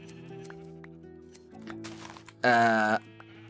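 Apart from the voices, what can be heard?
sheep bleating in Minecraft video game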